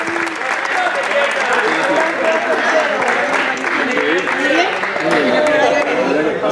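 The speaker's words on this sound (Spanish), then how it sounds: "Un aplauso para Cádiz, ¿eh?" Applause for a rugby sevens team at a spring tournament trophy ceremony, sustained clapping from a crowd with voices chattering underneath throughout.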